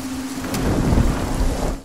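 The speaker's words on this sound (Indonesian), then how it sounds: "Hari mulai gelap dan hujan deras turun melanda" Heavy rain pouring down in a forest at dusk, with a deep rolling rumble of thunder swelling and fading across a loud, steady downpour, no voices.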